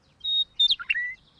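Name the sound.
little bird singing loudly, cartoon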